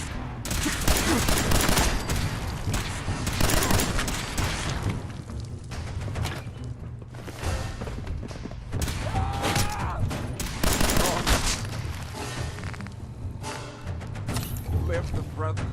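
Video game combat erupts in dense, continuous gunfire: rapid volleys of shots and booming impacts crowd together at close range, loud throughout, with voices occasionally heard under the barrage.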